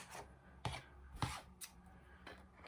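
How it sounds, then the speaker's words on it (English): Leaf shapes for cake decorating cut out with scissors, several soft close snips spaced about half a second apart, faint and quiet with light rubbing between cuts. "I'm going to cut these leaves"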